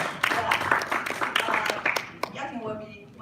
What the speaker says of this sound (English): let's give a big applause to Yatin